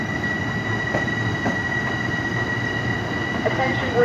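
An LIRR M7 commuter train pulls out of Woodside station as a steady rumbling rail roar with a faint squeal of wheels, fairly loud and continuous for a few seconds, with no voices.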